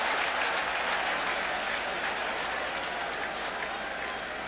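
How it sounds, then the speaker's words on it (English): A loud stadium crowd at a 2007 UConn versus Virginia college football game roars as a dense, continuous wash of noise, with a commentator speaking over it. "Crowd is loud down there, Doug."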